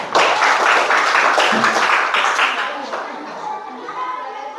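A classroom audience during an Arabic-language teaching session claps in a loud burst that gradually thins and fades, with voices chattering underneath and continuing after the applause.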